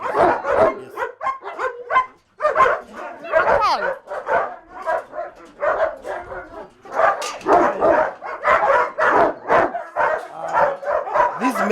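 Large Great Dane dogs bark repeatedly at a breeding kennel, deep loud barks in quick irregular bursts with a few whimpers and yips, close by and filling the whole stretch.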